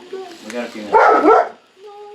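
A dog barks in a short, loud burst of several rough barks in the middle, with people talking before and after.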